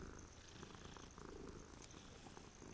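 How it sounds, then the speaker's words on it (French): Cat purring inside the video game Hogwarts Legacy, a soft continuous rumbling purr held steady at low volume for a few seconds, with no talk over it. "Ah mince, c'est un chat, c'est un chat."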